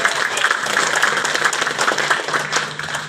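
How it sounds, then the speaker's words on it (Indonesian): Audience applause at a creativity seminar for kindergarten teachers in Cilegon, held at KidZania: a dense, steady wash of many hands clapping close by, continuing evenly for about three seconds with no clear talk. "Tepuk tangan dulu ya."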